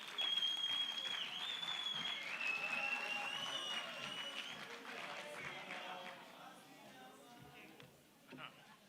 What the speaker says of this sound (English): So let's give a good round of applause to Wasim.